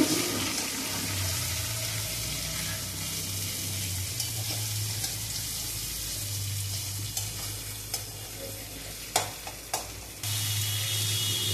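Chopped onion goes into fish frying in a pan, giving a loud, continuous close sizzle with occasional stirring scrapes and a few sharp clicks near the end.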